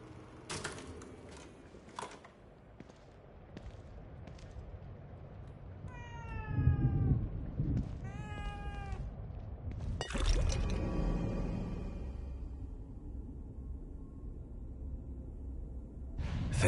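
Cat meowing in the horror video game The Evil Within 2, several rising, tonal meows in a row over a low ambient game background, close and moderately loud with no talk.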